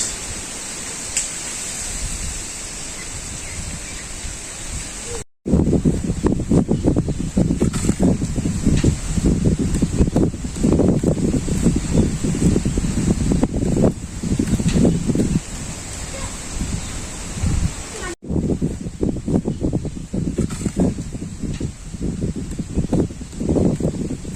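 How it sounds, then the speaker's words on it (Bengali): Cold wind blows steadily outdoors in a village, a loud continuous rushing roar over the microphone with gusty rumbling, briefly cut off twice, and no talk. "বন্ধুরা কীরকম বাতাস ছাড়ছে আজকে ঠান্ডা"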